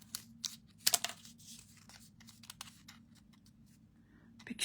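Scissors snip through paper between paper clips in a small craft setup, a few sharp close cuts with crinkling paper rustle, no talking.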